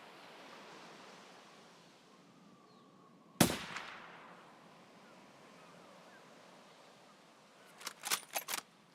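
Gunfire in the video game Escape From Tarkov, indirect fire aimed at a rogue: one sharp loud blast around the middle, then a quick burst of several shots near the end, over a steady wind-like background hiss.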